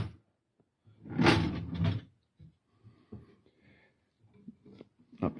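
A homemade wooden drawer in a scrap-built tool chest slides open with a loud wooden rumble, followed by a few faint knocks and light clatter of the accessories inside.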